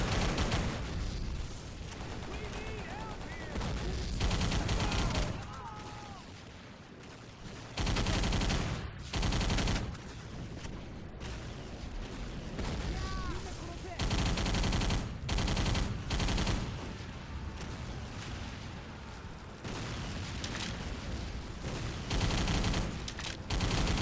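Video game shooter gunfire comes in repeated loud bursts of rapid shots, separated by quieter gaps, with the volleys sounding close and sharp throughout.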